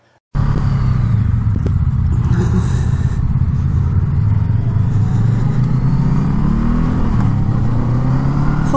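Honda Rebel 1100 and Rebel 500 cruiser motorcycles riding out, a loud steady engine drone and road rumble starting abruptly and holding for the whole stretch, pitch rising slightly as they pull away.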